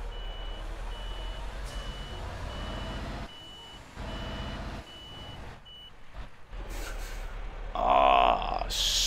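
In Euro Truck Simulator 2, a truck hauling a 55-tonne Leopard 2A5 tank on a military transport sounds steady, evenly spaced reversing beeps over a low engine rumble, with a louder burst of hissing noise near the end.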